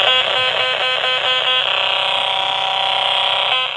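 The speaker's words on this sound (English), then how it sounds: "the calculator beeps whenever you get close to the metal" Homemade metal detector built from a calculator and a radio, giving a loud, steady electronic beeping tone that pulses rapidly at first and then holds as a continuous whine.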